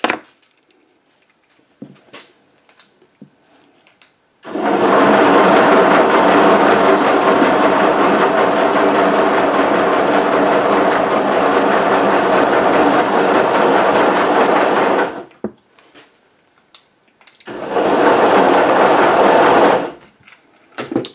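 Two cordless drills run together on a rope-making machine twisting Christmas light strings, a loud steady whir for about ten seconds, then a pause and a shorter second burst near the end.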